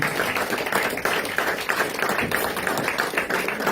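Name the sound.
congregation applauding Jesus at church service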